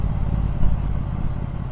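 A Triumph Bobber Black motorcycle fitted with a booster plug pulls in fifth gear of its six-speed box, a loud, continuous engine and wind roar heard from the rider's position, with a slight surge partway through.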